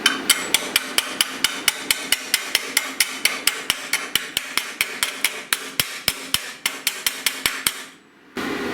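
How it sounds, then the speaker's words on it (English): A hammer chips slag off a fresh stick weld made at about 90 amps. It strikes about thirty times in sharp, rapid, evenly spaced metallic taps, then stops, leaving a quiet background hum with no voices. "Let's take the slag off."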